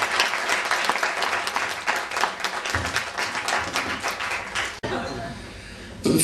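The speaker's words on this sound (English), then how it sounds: "A round of applause." Wedding guests give loud, sustained applause at a best man's speech. The clapping continues with crowd noise, then cuts to a quieter stretch of clapping near the end.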